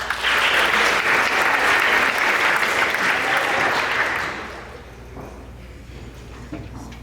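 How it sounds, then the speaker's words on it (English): An audience at a school awards ceremony claps loudly for about four seconds, then the applause fades into quieter room noise and faint voices. "Let's give him a round of applause one more time."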